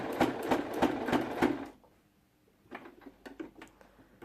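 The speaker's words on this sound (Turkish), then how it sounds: "Buraya da bir dikiş uyguluyorum." A sewing machine stitches fabric for a foldable strawberry-shaped shopping bag, running in a quick, loud burst of rapid stitches, then falling quiet before a few softer, scattered clicks and taps nearby.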